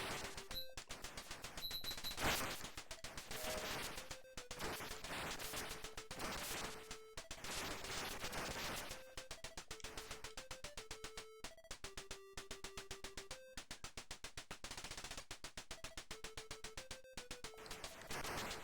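Rapid, continuous synthesized gunfire from the Capcom arcade shooter Vulgus chatters in a relentless rhythm, mixed with electronic tones and occasional blasts, with no voices.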